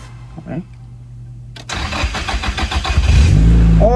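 A Nissan Silvia S14 (240SX) engine cranks and catches after a quiet stretch, then settles into a loud, close idle with rising revs, and a brief voice is heard at the very start.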